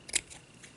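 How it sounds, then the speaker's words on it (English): Scissors make a single quick snip through material for a gift bag topper, one short close crisp cut followed by near quiet. "So I'm just going to just cut off a piece like this."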